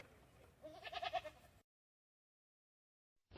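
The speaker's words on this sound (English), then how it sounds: "Sheep." A sheep bleats once in a short, wavering call over a faint outdoor background, then silence follows, close and alone.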